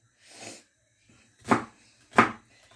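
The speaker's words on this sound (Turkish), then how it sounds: "Şöyle iki üç başta soğan doğrarım." Three knife chops through onions against a cutting board, one softer then two sharp, distinct strikes, close and clear with quiet gaps between.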